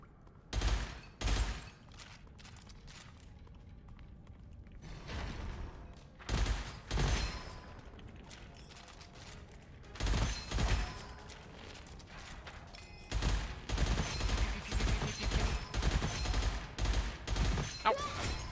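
Gunfire in the shooter game Gunfire Reborn as vases are shot, heard as repeated loud bursts of shots in clusters with short pauses, then a denser rapid volley near the end.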